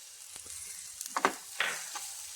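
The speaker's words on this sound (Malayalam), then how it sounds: "ഇനി ഇതിലേക്ക് ഒരു ടൊമാറ്റോ ചേർത്ത് കൊടുക്കാം." Tomato and curry leaves sauté in a pan for a Kerala-style curry, giving a soft steady sizzle with a few sharper crackles and stirring sounds, close up and without talk.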